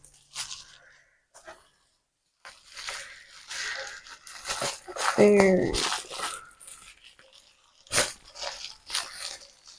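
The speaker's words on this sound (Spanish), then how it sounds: "de papel burbuja, perfecto para cualquier golpe que se pueda dar el espejo" Bubble wrap is handled around a portable mirror, giving crinkly crunching and tearing bursts at close range, loudest mid-clip, while someone talks intermittently.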